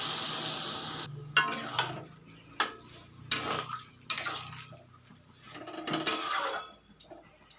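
A little water poured into a pan of amodi fish curry with mixed vegetables: a short hissing pour at the start, followed by scattered clinks and knocks of utensils against the pan.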